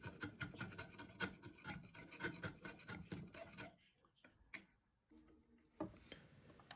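A sharp chisel scraping saw tracks out of solid oak: close, rhythmic rasping strokes, followed by a brief quieter pause and a few isolated scrapes.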